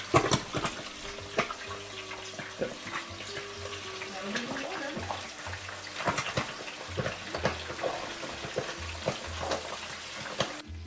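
Squid rings frying in hot oil in a home kitchen, a steady crackling sizzle throughout with scattered pops and occasional clinks of a utensil, close and fairly loud, no talking.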